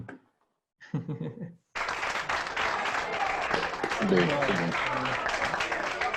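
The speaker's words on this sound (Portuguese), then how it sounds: "E no virtual a gente coloca também os aplausos virtuais" A recorded applause sound effect is played during an online talk, a dense crowd-clapping track with faint cheering that follows a brief snippet of music and runs steadily to the end.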